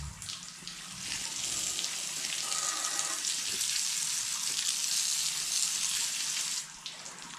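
Steady rush of water rinsing a surface during a cleaning job, continuous and fairly loud for several seconds before cutting off near the end.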